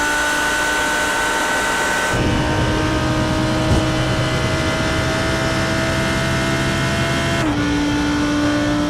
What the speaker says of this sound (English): Naturally aspirated V10. Just listen to this thing as he accelerates onto the racetrack.